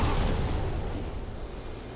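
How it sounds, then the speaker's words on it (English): An explosion in the video game Dark Souls, a loud broad rumbling blast that begins at once and decays over two seconds. "Explosions."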